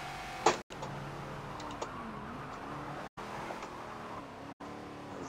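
Ford Falcon XB in Forza racing at Daytona, engine droning steadily with a brief spike in revs from a bad downshift, interrupted by short dropouts, no talk.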